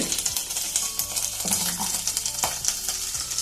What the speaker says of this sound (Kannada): ಚೆನ್ನಾಗಿ ಎಣ್ಣೆಲಿ ಫ್ರೈ ಮಾಡ್ಕೊತೀನಿ. ಬೆಳ್ಳುಳ್ಳಿ ಹಾಕೋತೀನಿ, ಸ್ವಲ್ಪ ಈರುಳ್ಳಿ